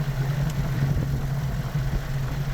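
A small private airplane's piston engine keeps idling after the master switch is shut off, a steady mid-pitched running drone with light clatter, close and continuous.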